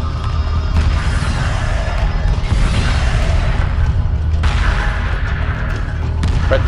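A ship firing missiles in Homeworld Remastered: dense, continuous low rumble of launches and impacts with thumps and crashing bursts throughout, loud and steady with a few sharper hits.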